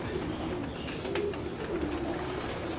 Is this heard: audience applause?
no